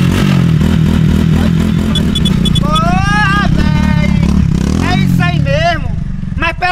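An automatic motorcycle starts and revs, its engine note rising under loud overlapping talk and laughter from several people, with clattering nearby.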